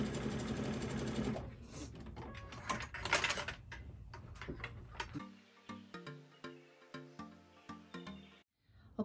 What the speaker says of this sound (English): we're stitching it down. I'm using a zigzag stitch to hold this down.